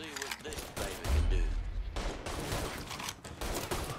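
Gunfire in the video game Mafia 3 played on PS4, rapid bursts of automatic shots and heavy blasts with a boom partway through, mixed with game voices.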